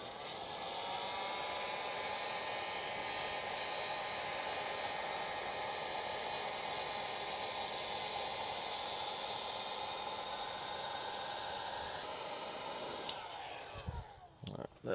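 Heat gun blowing a steady, even rushing hiss over polycarbonate plexiglass on a 2010 Ranger, running continuously up close before cutting off near the end with a few handling clicks.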